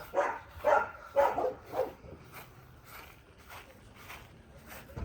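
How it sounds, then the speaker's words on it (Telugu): One of two dogs barks in a short burst of four loud, close woofs, then quieter distant barks continue faintly. "ఈ పక్కన రెండు కుక్కలు ఉంటాయి అవి ఎప్పుడు మొత్తుకుంటూనే ఉంటాయి"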